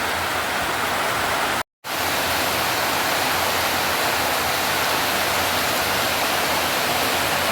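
Steady rain falling outdoors while the sun shines, a dense, loud, even hiss that continues unbroken apart from a brief cut near the start, with no voices over it.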